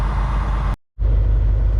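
A diesel truck engine at fast idle gives a loud, steady low rumble close by, cut by a short silent gap before the same drone resumes.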